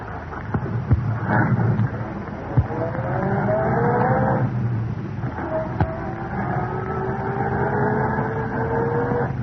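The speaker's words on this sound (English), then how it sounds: "Car pull out from curb down the street." A car pulls away from a street curb and drives off in an old-time radio drama; the engine note climbs steadily in pitch as it accelerates, loud and close, with no talking.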